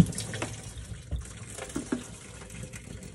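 Descaling water from a steam iron's boiler tipped into a sink, a steady splashing pour with a few louder gurgles and splats over about three seconds, close and without talk.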